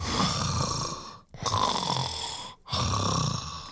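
Loud, rasping breaths close to the mic after eating a lot of baked goods, three long drawn cycles with brief pauses between, heavy and snore-like.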